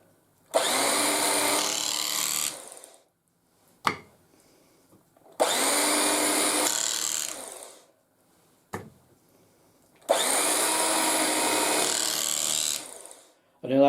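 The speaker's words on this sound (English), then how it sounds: "An electric carving knife is the only thing that will do this." An electric carving knife slicing through hot roast beef, running in three long loud buzzing bursts of about two seconds each, separated by short pauses and sharp clicks.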